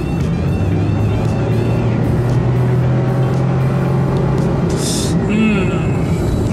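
A Honda N-VAN kei van with no turbo and an empty cargo area accelerates to 50 km/h with the air conditioner running, its engine a steady, loud drone heard from inside the cabin as a person speaks.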